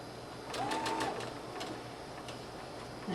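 A sewing machine stitching a dress seam at a slow pace, with a faint rapid ticking over steady low hum. A soft squeak sounds briefly near the start.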